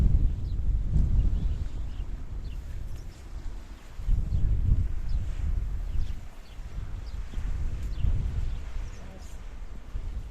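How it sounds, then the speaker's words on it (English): Wind rumbles and buffets the microphone in waves throughout on a coastal walk in Paphos, Cyprus, with low gusts rising and falling. "Quite windy today."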